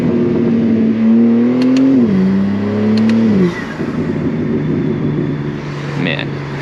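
A BMW M3 engine drops through downshifts, revs rising and falling in quick sweeps with intake roar from inside the car at night, loud and close, then settling into a steady cruising drone.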